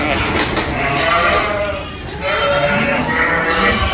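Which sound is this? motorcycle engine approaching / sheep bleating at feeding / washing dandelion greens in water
sheep bleating at feeding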